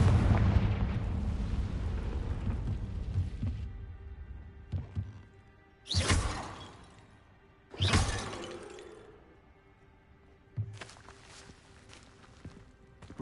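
Confringo fire spell blasts in the video game Hogwarts Legacy: a rumbling opening followed by three sharp, loud explosive bursts with decaying tails, spaced a couple of seconds apart, with no talk over them.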